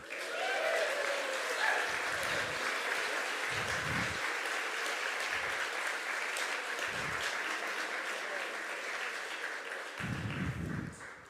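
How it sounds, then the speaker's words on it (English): Sustained audience applause for local heroes at the Westmeath Cathaoirleach Awards fills the hall, a dense steady wash of clapping with a few deeper thumps underneath, loud and continuous throughout. "please give the person in the chair next to you, in front of you, and behind you a big cheer and a round of applause"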